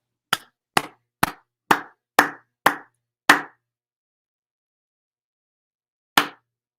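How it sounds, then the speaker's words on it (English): A single person gives seven quick, sharp hand claps in a steady rhythm, close and dry, then one more clap after a pause. "I think we should give ourselves a round of applause."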